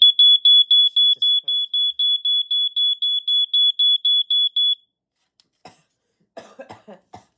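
A smoke alarm under test beeps in a rapid, loud, piercing run of about fifteen pulses, then stops, followed by a cough and a few brief sounds close by.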